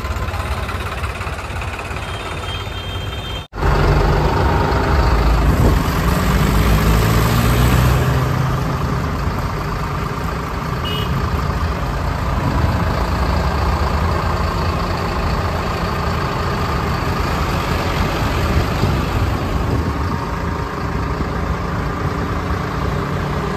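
A tractor engine idles at a farmers' tractor march, a loud, steady, close rumble that continues for over twenty seconds after a brief dropout early on.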